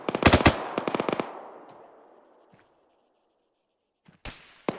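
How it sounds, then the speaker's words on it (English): Rapid bursts of automatic gunfire in a tactical shooter game, loud and close at first, then a long echoing decay into near silence before a few sharp shots return at the end. "Where the fuck is that gunfire coming from?"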